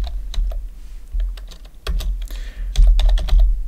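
A command typed on a computer keyboard, fast uneven clusters of close key clicks over a low room rumble.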